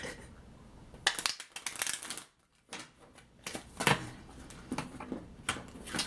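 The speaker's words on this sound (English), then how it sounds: "I'm having some trouble shuffling the cards." Tarot cards being shuffled by hand, quiet papery riffles and flicks in irregular bursts with a short pause midway, close and soft.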